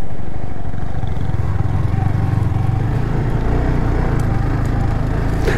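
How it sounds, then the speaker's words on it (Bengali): A Yamaha R15 racing motorcycle ridden on a dusty, muddy hill road, its engine droning loud and steady close by with a continuous low rumble throughout. "So Yamaha R15 racing bike হলেও এখানে ডার্ট বাইকের মতো কাজ করতেছে।"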